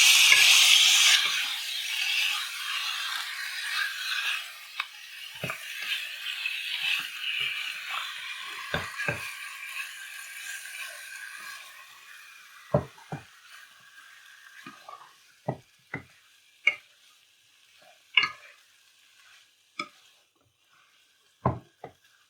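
Chicken masala made with country chicken and sesame oil is stirred in a pan. A loud sizzle fades away, then sparse clinks and knocks of the spoon against the pan follow, close by with no voices.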